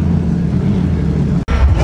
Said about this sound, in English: Just listen to them rumble, man. I think it's insane. How the hell did they make a V6 sound like that